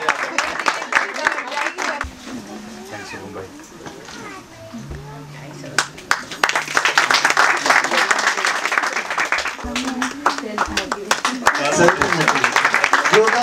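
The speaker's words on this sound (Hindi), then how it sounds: "जोरदार ताली है" Audience applause at a Hindi kavi sammelan poetry gathering, uneven waves of clapping rising and falling, with voices talking and calling out through it, growing denser toward the end.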